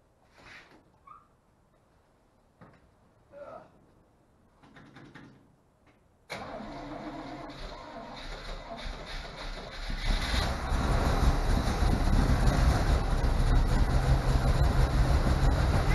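A 1963 Corvette engine that had sat for 19 years being cranked with starter fluid, a few short bursts of cranking before it suddenly catches and settles into a loud, rough, building idle.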